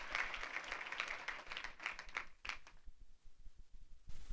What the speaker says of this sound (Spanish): Dele un fuerte aplauso al Rey de la Gloria conmigo